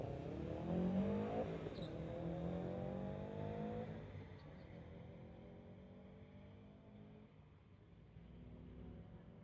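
Kia and Subaru street-legal drag race cars run down the strip, engines revving with rising tones early on, then fading to a steady distant rumble with no voices.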